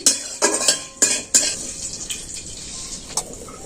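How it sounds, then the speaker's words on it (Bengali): Whole cumin and black cumin seeds fry in a pan while a utensil stirs them, giving several sharp metallic scrapes and clinks over a low, steady sizzle, close and fairly loud, with no talking. "আবার এটাকে আমি নাড়াচাড়া করে একটু ভেজে নিচ্ছি"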